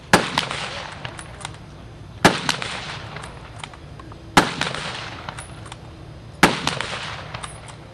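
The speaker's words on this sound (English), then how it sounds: "The model 1903-03 Springfield." Model 1903 Springfield rifle fired at a Close Assault 1944 reenactment, four sharp, loud shots spaced about two seconds apart, each followed by a short echoing tail and scattered smaller cracks in the distance.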